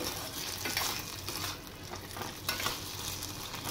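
Rice manchurian balls stir-fried in sauces in a pan, a steady loud sizzle with repeated scraping stirs of a spatula throughout, no voices.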